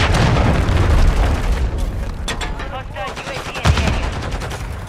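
Dense automatic gunfire and booming blasts in Call of Duty Modern Warfare 3 multiplayer on the Rust map, loud and sustained, with shots layered over each other and a voice calling out beneath the firing.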